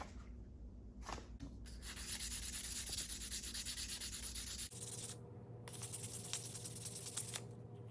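Fine 600-grit sandpaper rubs steadily over a Rope Runner Pro climbing device in a continuous close, quiet scratching rhythm, with a short pause and shift in tone partway through.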